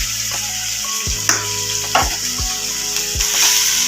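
Onion masala sautés in a pan for a Tamil egg gravy, a loud, constant sizzle close by, punctuated by several sharp spatula knocks and scrapes against the pan, with a low hum beneath and no talking.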